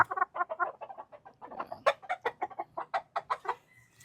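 A hen gives a steady run of rapid, close clucks in an even rhythm, fairly quiet, with no talk over it.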